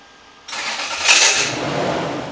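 A 1998 Toyota Land Cruiser engine with a faulty starter cranks and catches after a quiet moment, then settles into a loud, rough, hissy run with a brief harsh surge, close up and without voices.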